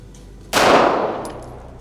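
A single loud, close gunshot from a Wilson Combat DIV 77 pistol at an outdoor range, a sharp crack followed by a short ringing decay, with nothing else around it.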